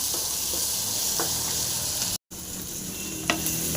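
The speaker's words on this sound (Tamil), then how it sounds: "இப்போ பச்சை மிளகா, வெங்காயம், பூண்டு, இஞ்சி மட்டும் போட்டுடலாம். இப்போது போட்டு நல்லா ஃப்ரை பண்ணிக்கலாங்க." Green chilli, onion, garlic and ginger fry in a pan with a continuous close sizzle, briefly cut off for a moment and punctuated by a faint knock of a utensil.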